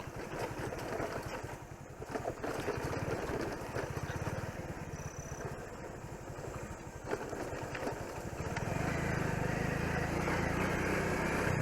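A motorcycle engine runs at low, steady revs over a badly broken, dangerous mountain road, faint and rumbling with bumps and knocks throughout, swelling slightly louder near the end.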